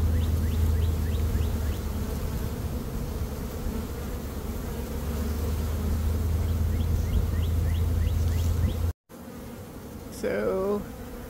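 A honeybee swarm hums in a dense, continuous drone close by, steady for several seconds before a brief cutout, followed by a fainter buzz and a short voice.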